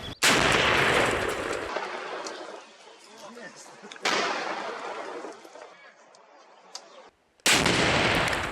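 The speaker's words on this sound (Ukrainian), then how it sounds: "Постріл!" Three sharp, loud bangs from a gun fired by a Ukrainian territorial defense brigade ring out a few seconds apart, each with a long echoing decay, in open air.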